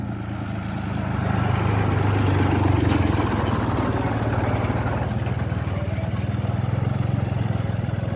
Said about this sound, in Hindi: यहाँ एक ट्रैक्टर आ रहे